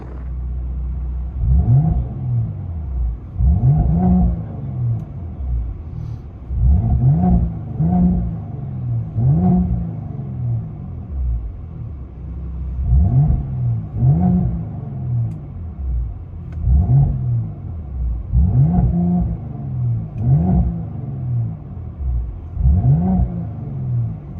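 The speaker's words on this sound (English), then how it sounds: "Turbo, fully straight pipe, GLE 43 AMG" Inside the cabin, a turbocharged Mercedes GLE 43 AMG with a straight-piped exhaust booms in a deep, loud rumble, swelling with each rev in a repeating series of pulls, no talking.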